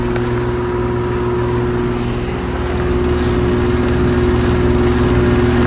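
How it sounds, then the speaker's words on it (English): An outdoor air conditioning unit from 2017 with an Emerson Copeland scroll compressor runs with a steady, loud, close mechanical hum and drone that stays even throughout. "If I stop this, it's got a Emerson Copeland scroll compressor."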